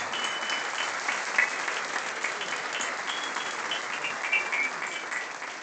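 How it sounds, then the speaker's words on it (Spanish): A crowd claps steadily at the closing ceremony of the Kayak Surf World championships in Argentina, a sustained wash of applause with no voices standing out. "Un fuerte aplauso para ellos."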